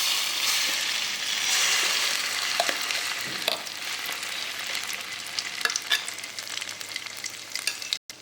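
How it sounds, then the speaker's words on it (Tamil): Steady sizzling of food sautéing in sesame oil in a pan over medium flame, with scattered crackles and the occasional scrape of stirring. "தாராளமாக எண்ணெய் ஊற்றி நல்லெண்ணெய் ஊற்றி இதை நல்லா வதக்கும்"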